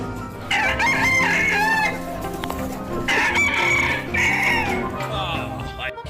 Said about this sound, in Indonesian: di sini ada ayam